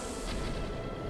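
A cannon blown up in Zelda Breath of the Wild rumbles as a dense, loud explosion-like roar that fills the whole second without a break.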